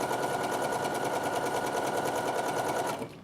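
Sewing machine stitching steadily along a raw fabric edge, a loud continuous motor hum with rapid needle rhythm that cuts off sharply near the end.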